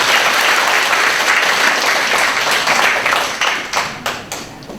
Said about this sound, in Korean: 큰 소리로 박수합니다.